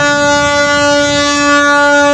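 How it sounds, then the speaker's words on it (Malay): A Sarawak River Cruise boat sounds its ship horn on the waterfront, a loud, steady tonal blast held without a break through the whole stretch, with faint outdoor background beneath it. "Bunyi horn kapal tu, Sarawak River Cruise."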